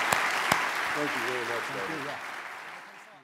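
An audience at a creative conference in Portland applauds a speaker, a broad wash of clapping that slowly fades while a voice speaks briefly over it.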